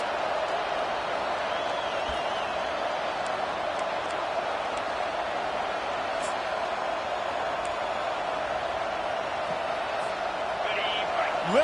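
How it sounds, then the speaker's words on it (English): A loud, steady stadium crowd roars throughout the college football video game NCAA 25, the cheering filling the whole stretch as the home fans try to rally their defense on a goal-line stand. "Listen to this crowd just shaking the girders of this place, trying to help their defense."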